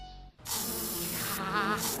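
A sharp hiss of an aerosol spray can bursts in after a brief pause and holds steady for over a second, loud and close.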